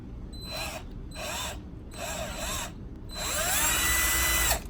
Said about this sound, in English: which will be a Phillips screw. Let's get that one out.